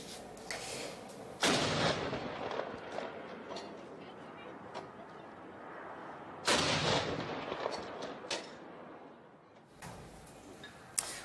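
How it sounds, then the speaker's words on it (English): Artillery rounds of a 21-gun salute boom at a royal proclamation ceremony, three sharp, loud blasts spaced several seconds apart with a fading rumble between them. "The proclamation was marked by a 21-gun salute."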